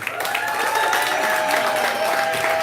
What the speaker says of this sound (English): So clap it up here one time.